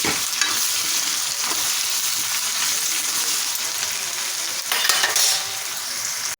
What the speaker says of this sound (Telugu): అల్లం వెల్లుల్లి పేస్ట్ వేసుకుందాం ఇది పచ్చివాసన పోయిన వరకు బాగా వేపాలండి